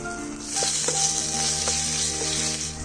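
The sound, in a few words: ginger garlic paste frying in pan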